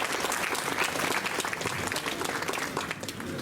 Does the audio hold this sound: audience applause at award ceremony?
yes